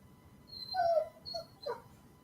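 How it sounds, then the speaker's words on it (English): A dog, a female, gives a few short whimpering yips and a soft bark in a quiet room, three brief separate calls close to the microphone, with no talk. "Sylvie, you're barking at nothing, girl"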